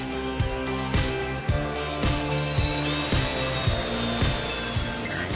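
A power drill whirs continuously, close and loud, with periodic rhythmic thumps as the bit grinds through the metal trunk lid of a 2014-15 Chevrolet Camaro.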